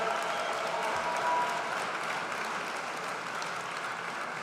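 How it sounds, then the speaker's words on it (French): A large audience applauds at a political meeting in Angers, a dense, steady wash of clapping that fills the room without pause, with little talk beneath it. "Vous pouvez vous applaudir."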